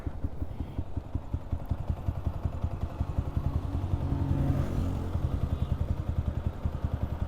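Engine of a Yamaha Sniper 155R motorcycle with 35,000 km on the odometer, fitted with an aftermarket pipe and no remap, idling close by with an even, rapid pulsing beat and a brief rise in revs midway.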